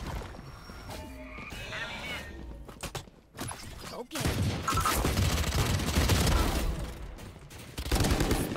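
Gunfire in a first-person video game match, sharp shots and a dense burst of rapid fire with a busy in-game soundscape, and a player's voice briefly heard.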